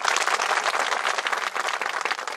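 An audience at a Marathi public address claps together in a sustained, dense patter of applause, fairly loud and even throughout with no speech over it.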